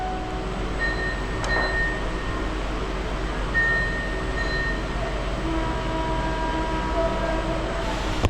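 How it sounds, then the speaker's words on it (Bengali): An AC EMU local commuter train hums and rumbles as it pulls away from Sealdah station, with steady motor whine, a brief clank, and faint tonal squeals over the drone. "অলরেডি ট্রেন কিন্তু আমাদের শিয়ালদাহ স্টেশন ছেড়ে রওনা দিয়ে দিল"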